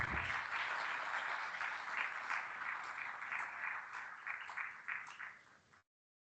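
An audience at an alumni awards ceremony applauds award recipients, a dense, even round of clapping that stays strong, then thins and fades out near the end.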